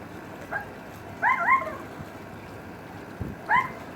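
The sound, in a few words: dog barking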